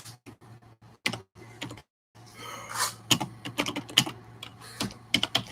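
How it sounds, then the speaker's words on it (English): Typing on a computer keyboard, close and clear, in sparse clicks at first and then faster bursts of keystrokes over a low hum, with no talk. "You sure you want to do the typing?"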